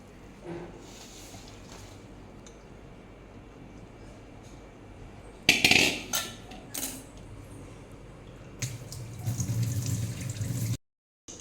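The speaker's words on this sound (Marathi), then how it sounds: "मिनिट ही भाजी शिजल्यानंतर मी आता एका चाळणीमध्ये काढून घेणार" Steamed wild greens are tipped into a colander in a kitchen, with brief clattering and metallic knocks followed by a stretch of splashing and dripping, fairly close and moderately loud.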